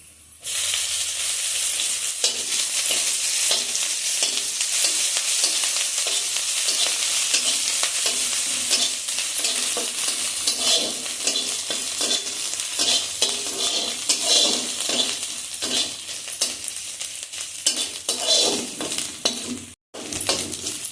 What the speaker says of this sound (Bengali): গ্রেট করে রাখা আদাগুলো দিয়ে দিচ্ছি